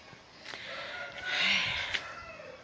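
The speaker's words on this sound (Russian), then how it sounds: "Петухи орут." Roosters crow faintly in the distance, a drawn-out call rising and falling amid quiet outdoor background noise on a warm late-September morning.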